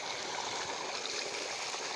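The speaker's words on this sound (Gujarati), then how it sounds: "અને મિત્રો પહેલું પાણી આસ્તે આસ્તે આવશે" Water runs slowly from a tap for washing feet, a soft steady trickling stream with no talking over it.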